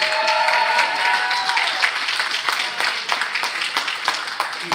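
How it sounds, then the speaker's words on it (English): A wrestling crowd claps as wrestlers make their way to the ring, with scattered, uneven hand claps over a tonal background at the start. "Here come, round of applause,"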